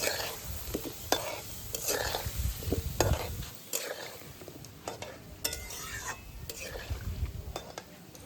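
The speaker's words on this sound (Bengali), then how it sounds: "খুব ভালোভাবে কিন্তু ভাজতে হবে" Soybean dumplings (muthiya) fry in hot oil with a steady low sizzle, broken by sharp clinks and scrapes of a utensil stirring in the pan; no talk is heard.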